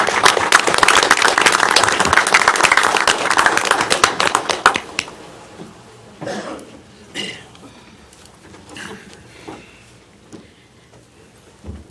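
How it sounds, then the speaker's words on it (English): A round of applause for champions at a city commission meeting, loud and dense for about five seconds, then it breaks off abruptly and a few scattered claps and quiet voices follow. "Can we have another round of applause for these champions?"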